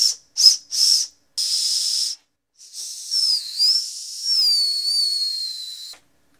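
A small whistle built into a flashlight is blown in several short breathy toots, then longer airy hissing blasts with a faint wavering tone, close up and alone.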